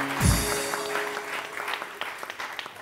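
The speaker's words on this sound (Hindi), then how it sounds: "बहुत सारी तालियां" A studio audience on a Hindi TV morning show breaks into applause after a thumping low sound, a brief burst of clapping that stays moderately loud and slowly thins out.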